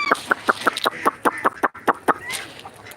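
Rapid series of close, sharp clucks from chickens on a farm with pigeons, about a dozen in quick rhythmic succession, with no talking.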